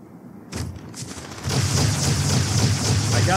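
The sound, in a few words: rocket launcher firing in Halo 2 video game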